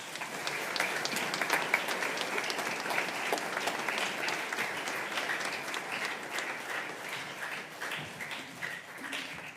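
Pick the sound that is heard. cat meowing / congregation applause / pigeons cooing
congregation applause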